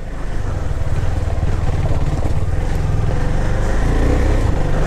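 A KTM Duke 390 BS6 motorcycle engine running loud and close on a slippery, rain-soaked off-road track near a temple, a continuous throbbing drone that holds steady with no talk.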